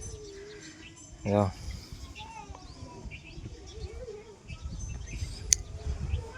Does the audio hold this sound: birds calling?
yes